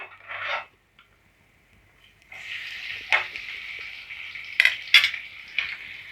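Chopped onions go into a pan of sautéed garlic for a Tamil dry fish gravy, with a brief hiss, a quiet pause, then steady sizzling frying broken by a few sharp scrapes and clinks of a spoon stirring against the pan.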